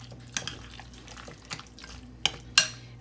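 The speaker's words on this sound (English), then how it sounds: "And then I'm going to stir all this up." Sauce mixture for Hawaiian roll sliders being stirred in a bowl, soft wet swishing with a few sharp utensil clicks and taps against the side, close and fairly quiet.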